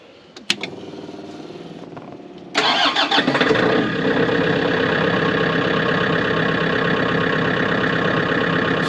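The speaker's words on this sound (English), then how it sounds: "So this is a 25 kilowatt generator." A 25 kW diesel generator cranks briefly, then catches and settles into a steady, loud running drone with a mid-pitched rumble that continues unbroken to the end.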